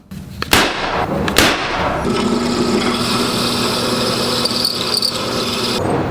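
A power drill whines steadily drilling holes in metal after two sharp knocks, a loud continuous grinding hum with high-pitched ringing, no voices.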